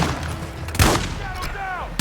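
Gunfire in the Call of Duty Modern Warfare 2 campaign, a single heavy blast over a steady background of combat noise, followed by a fading whine of shell-like sounds.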